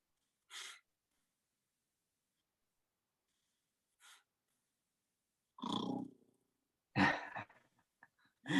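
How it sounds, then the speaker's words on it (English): A person demonstrates regular sleep breathing with a run of audible breaths: soft airy exhales, then louder, rougher inhale-exhale pairs separated by silent pauses, close and unaccompanied by speech. "You see a very regular breathing pattern, which goes something like this."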